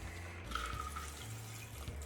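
A margarita poured from a shaker through a strainer into a large glass, giving a soft, continuous trickle and splash of liquid that runs steadily for a couple of seconds.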